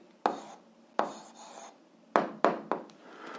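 A pen or pencil scratches across paper, writing out an answer by hand in a few short, close strokes separated by brief pauses, with no voices.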